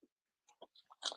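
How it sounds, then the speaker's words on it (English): Close, quiet crunching and chewing of peanut butter drizzled caramel corn, a few separate bites ending in one louder crunch. "Can you hear me crunching?"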